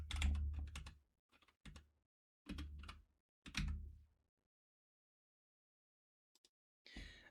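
Computer keyboard typing for a label in Microsoft Publisher comes in short bursts of close, crisp key clatter separated by pauses, ending with a brief rustle, with no speech.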